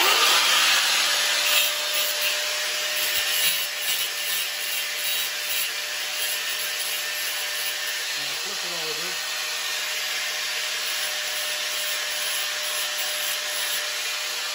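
A file rubs back and forth over freshly cut steel for a toy, clearing the burrs in a steady rasping scrape that is loud at first and settles to a continuous grinding hiss.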